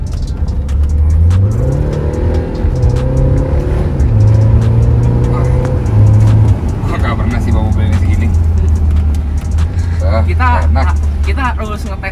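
Engine of a BMW F30 diesel sedan fitted with a new aftermarket exhaust, revving steadily with low droning rises and falls, close and loud, with people talking over it.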